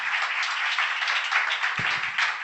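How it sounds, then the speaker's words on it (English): A round of applause from the audience at an Amway business talk, dense steady clapping holding at an even level throughout, with a brief low thump near the end. "So around of applause."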